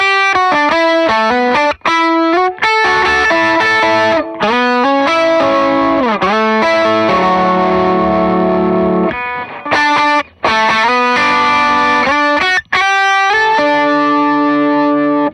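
Meris Enzo X synthesizer pedal on a classic octave-up preset, playing a steady run of bright, distorted synth notes with octave doubling, chorus shimmer and reverb tails. Loud and continuous, with brief gaps between phrases and no talking.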